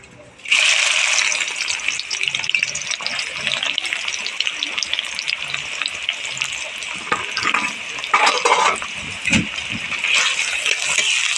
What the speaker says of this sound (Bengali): তেলটা গরম হয়ে গেছে এবারে দিয়ে দেবো এখানে পেঁয়াজ